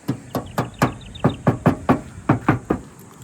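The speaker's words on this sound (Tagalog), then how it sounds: "kaya kinakatok para makita ninyo kung gaano kakapal na yung pintura or yung masilya" Knuckles rap on the sheet-metal body of a 1997 Isuzu Hilander to check the paint and putty, giving about a dozen sharp, hollow knocks in a steady, fairly even rhythm, close up with no talking.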